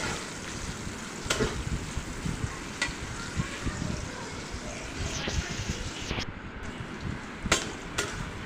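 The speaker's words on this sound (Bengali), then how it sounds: "পেঁয়াজটাকে ভালোভাবে নেড়ে নিতে হবে যাতে লাল লাল হয়।" Chopped onions stirred and fried in a pan for poultry curry, a continuous close sizzle broken by scraping spoon strokes and occasional sharp knocks against the pan.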